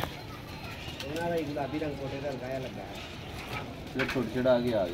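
Pigeons cooing in a loft as one settles onto a perch, soft repeated coos at close range mixed with rustling, with people talking over them throughout.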